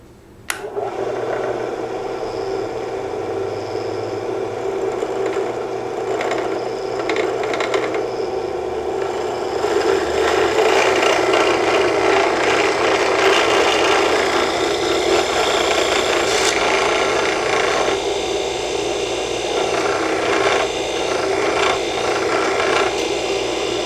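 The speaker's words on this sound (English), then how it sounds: "There's a hole drilled all the way through." A power drill bores through a wooden rifle stock, a sustained close whining grind that starts with a sharp onset and grows louder and rougher as the bit cuts deeper.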